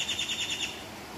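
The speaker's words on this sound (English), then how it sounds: "Some crazy birds again." A short run of faint, repeated bird calls warbles in a quick rhythm, then trails off into quiet background hiss.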